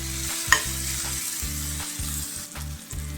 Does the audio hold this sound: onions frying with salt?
yes